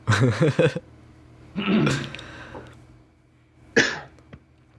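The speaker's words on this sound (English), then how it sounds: "clear my throat once and for all" Several harsh throat-clearing bursts and a cough-like rasp, close and fairly loud, separated by brief quiet gaps.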